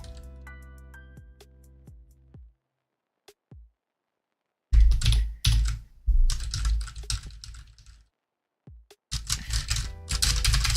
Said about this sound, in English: you are typing the keyboard too loud